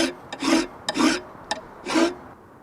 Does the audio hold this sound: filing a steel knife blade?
yes